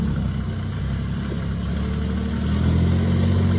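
A 2010 Kubota L39 GST four-wheel-drive diesel tractor with front loader idles nearby, a steady low diesel rumble that holds even throughout, swelling slightly near the end, with no talking.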